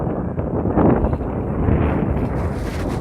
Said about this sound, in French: beaucoup de vent, là.